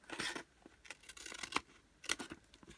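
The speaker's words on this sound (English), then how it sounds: "I just jump in here with my scissors, take as skinny a slither as I can off," Scissors snip a very thin strip off paper for a no-sew mini book, giving a few sharp, close, quiet cuts separated by short pauses, with no talking.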